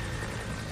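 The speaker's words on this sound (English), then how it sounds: "Up in the helicopter." A helicopter in the Resident Evil Remake video game gives a loud, steady rotor and engine roar that fills the whole moment, with no speech.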